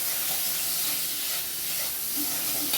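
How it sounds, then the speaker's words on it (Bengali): Potatoes with tomato, salt and turmeric sizzle as they are sautéed in a pan, giving a continuous close, hissing fry with soft bubbling and no break. "এটা দিয়ে একটু ভালো করে কষিয়ে নেব।"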